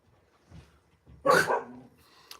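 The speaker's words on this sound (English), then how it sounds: "These dogs haven't barked as much in like a year." A dog gives a single sharp, close bark after some soft low snuffling, followed by near silence.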